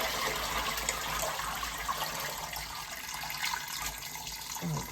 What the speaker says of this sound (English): I'm going to drain off this water.